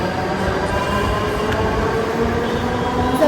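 A suburban train near Dadar, Mumbai rumbles steadily along, a loud constant roar of rolling wheels with a faint high squeal near the end.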